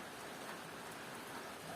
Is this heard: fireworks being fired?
no